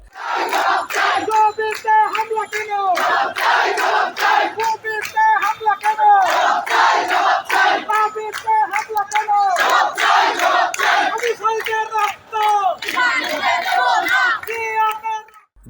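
Students chant slogans in rhythmic unison during a street protest march on a blockaded road in Rampura, Dhaka. Loud, dense group voices repeat phrases steadily with only brief pauses, with some clapping mixed in.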